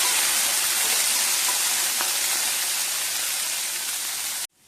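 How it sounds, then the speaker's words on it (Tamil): Garlic, green chillies and curry leaves sauté in a hot pan, giving a dense, even sizzle and crackle that runs steadily and close for several seconds before cutting off abruptly. "பூண்டு போட்டுக்கிறேன், கொஞ்சம் பச்சை மிளகாய், கொஞ்சம் கருவேப்பிலை இதை போட்டு வதக்கிக்கலாம்."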